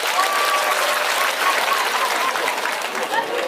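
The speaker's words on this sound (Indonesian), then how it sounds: "Tepuk tangan untuk pendeta Gilbert Lumindo" A large audience applauds a pastor at a religious gathering, a continuous dense wash of clapping with a faint voice or cheer riding over it.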